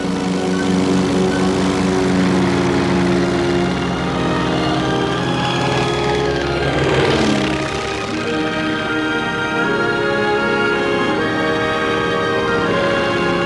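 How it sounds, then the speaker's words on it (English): Propeller airplane flying low, around 80 feet, with a loud, steady engine drone and buzzing prop that swells briefly midway, continuous throughout. "What's your altitude? About 80 feet."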